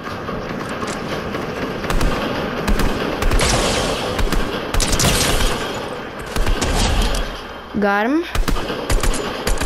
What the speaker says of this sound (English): Someone tried to shoot me then.